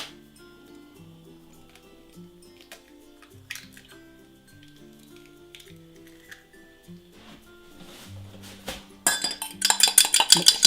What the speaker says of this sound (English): Mix it up, beat it up,